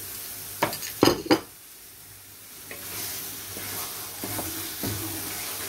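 Vegetables sautéed in a pot for a beef ragù, with a few sharp clanks of a utensil stirring against the metal early on, then a soft steady sizzle and occasional light scrapes.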